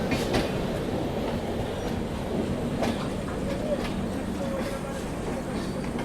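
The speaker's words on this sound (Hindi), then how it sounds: "ये है हावड़ा मुंबई मेल, वाया गया होकर चलती हैं" The Howrah Mumbai Mail passenger train rolls past at an Indian railway station, a steady rumble with clattering wheels and faint squeals. Background voices murmur beneath it.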